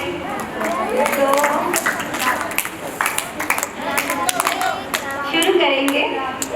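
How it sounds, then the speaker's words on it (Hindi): A group claps together during clapping yoga at a Yoga Day event, with bursts of applause-like clapping in uneven rhythm near and loud, under occasional voices. "थोड़ा सा ताली योग करते हैं"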